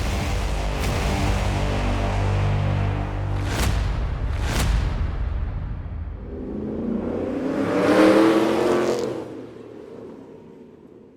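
Ford Mustang engine with a cold air intake revving on a dyno, a loud continuous roar with several sharp throttle blips, easing and rising again to a strong peak before fading, no voices.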